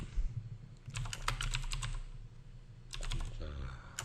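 Rapid clicking of computer keyboard keys in two short bursts, close up, with a quiet pause between them.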